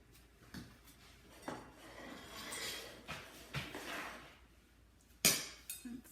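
Knife and fork clinking and scraping on a plate while cutting into a hot, gooey homemade butter tart, with scattered sharp metallic taps and softer scrapes, close and fairly quiet.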